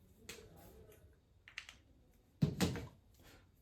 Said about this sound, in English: Let me just type some numbers.